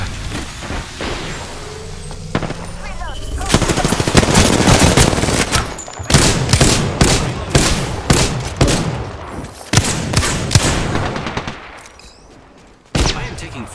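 Loud, rapid machine-gun fire in a shooter video game, dense repeated rattling bursts that fade briefly near the end before a final shot.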